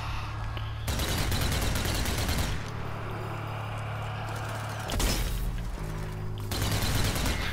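Gunfire in the zombie shooter Zombie Army 4: Dead War, loud and close, coming in dense rattling bursts with short lulls and a long pause near the middle.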